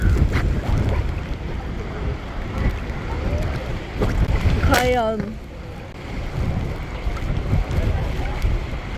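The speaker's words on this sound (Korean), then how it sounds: "저기 바람도 엄청 많이 불고 장난 아니야" Strong wind blowing near a waterfall in Iceland, a steady, loud broadband roar throughout, with people talking over it.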